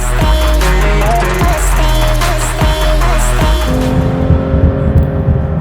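Supercar lapping a race track, engine revving hard with rapid gear shifts and repeated sharp drops in pitch, loud and close throughout.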